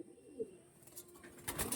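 A pigeon coos softly a few times, faint and close, with light rustling and a brief sharper call near the end, in a pigeon loft among show-quality birds for sale.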